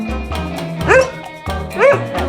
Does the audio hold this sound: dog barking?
yes